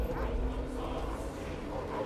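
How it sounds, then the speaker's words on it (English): A dog barks in the Stranger Things 4 teaser set in Russia, a short, muffled bark or two under a dark, heavy drone. "Evil dog, but I want to hug it."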